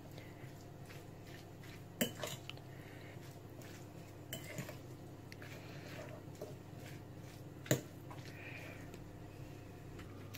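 An egg is mixed in a bowl with a utensil, giving soft scraping and stirring with occasional sharp clinks against the bowl, quiet and close.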